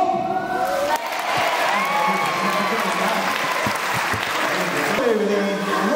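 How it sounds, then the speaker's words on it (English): Crowd applause at a sea lion show fills the whole stretch, steady and loud, with some cheering and a few shouts mixed in. "gotta give him a big round of applause for me"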